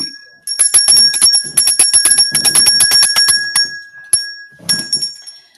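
A handheld bell rung in quick repeated bursts, bright metallic rings with a steady ringing tone, loud and close, pausing briefly before a few final separate rings, no talking over it.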